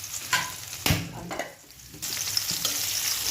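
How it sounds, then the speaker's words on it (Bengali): Chopped chili and onion hitting hot oil in a pan, a loud sizzle that flares up and settles into steady frying, with a few stirring scrapes and clinks in between. "তো এখন আমি তেলে এগুলো দিয়ে দিচ্ছি। তো মরিচ আর পেঁয়াজটা দিয়ে দিচ্ছি"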